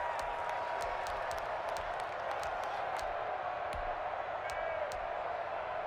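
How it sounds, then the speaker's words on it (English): Stadium crowd noise from the Madden NFL 21 football video game as the Bills line up for a two-point conversion: a steady, dense roar of a large crowd with scattered claps and whistles, continuous throughout with no break. "Listen to this crowd now"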